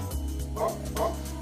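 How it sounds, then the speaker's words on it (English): A dog in the video game Tokyo Xanadu eX+ gives two short barks close together, moderately loud over a low, steady background hum. "Oh, look at this dog."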